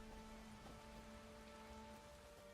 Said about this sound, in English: A bit chilly, it's bloody raining.